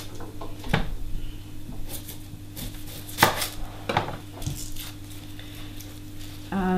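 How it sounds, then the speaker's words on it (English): A knife chops red onions and other root vegetables on a cutting board, producing irregular, fairly close knocks and scrapes over a steady background hum. "I'm going to cut all the vegetables into great big chunks"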